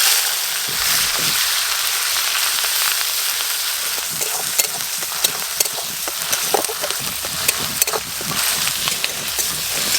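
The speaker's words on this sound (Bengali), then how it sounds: "তেল গরম হয়ে গেছে, এঁচোড় চিংড়িতে আজকে হিং দেবো, গোটা গরম মশলা, পেঁয়াজ বাটা" Asafoetida, whole garam masala and onion paste frying in hot oil for a jackfruit and small-shrimp curry, a loud steady sizzle with sputtering pops and occasional stirring clicks, nobody speaking.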